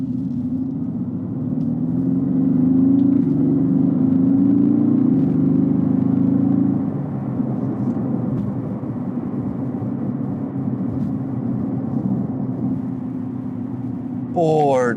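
A 2018 Mercedes-AMG GT R's engine builds up under throttle, a loud, deep rumbling drone that swells for several seconds and then settles to a steadier roar.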